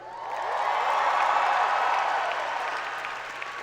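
Sustained audience applause at a high school class of 2014 commencement ceremony, swelling to a broad, even roar of clapping and then slowly thinning out, with no voices over it.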